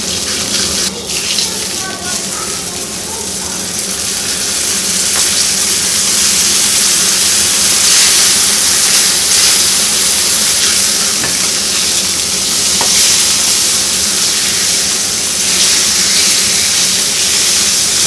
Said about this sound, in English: Got 2 rashers of bacon here, so oh yeah, work that pan up a bit.